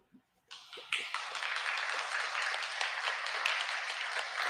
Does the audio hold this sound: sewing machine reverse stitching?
no